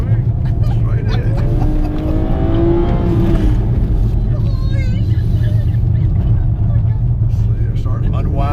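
A 2017 BMW 340i xDrive accelerates on a track at the BMW Performance Center, its engine note rising and pulling steadily beneath near-constant talking from people inside the car.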